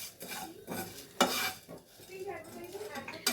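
Chillies are stirred in a hot pan, with quiet irregular scraping and clinks of a utensil against metal over a faint sizzle.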